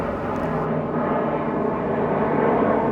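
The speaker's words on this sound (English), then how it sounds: "I'm gonna wait for this plane to go over." An airplane passing overhead outdoors, a steady broad engine roar that holds at moderate volume throughout with no talking.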